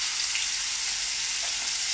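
Beef schnitzels fry in a hot pan in a home kitchen, giving a loud, continuous hiss and crackle from start to finish with no voices over it.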